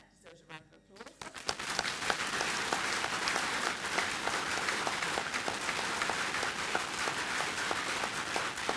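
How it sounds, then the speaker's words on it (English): A council chamber audience breaks into a round of applause after a brief spoken lead-in, the clapping sustained and even, filling the room at moderate distance. "That deserves a round of applause."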